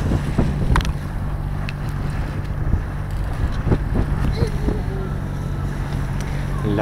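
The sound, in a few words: sailboat running on its motor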